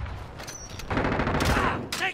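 Gunfire in Call of Duty Warzone, a short dense burst of rapid shots that swells and holds loud over about a second, mixed under an excited voice speaking in the same moment.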